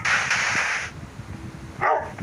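Dogs barking in a video game, short yappy barks mixed with game noise, with bright bursts at the start and again near the end of the stretch.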